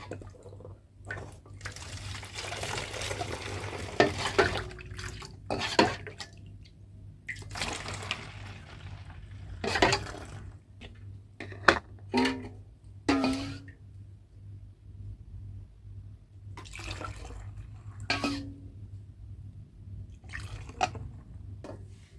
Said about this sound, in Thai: เดี๋ยวเราจะตักน้ำเนี่ยใส่ในขวดน้ำบัดลมค่ะ